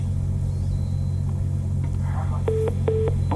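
Two short electronic beeps sound as a phone-in caller connects on a telephone line, heard over a steady low hum in a studio.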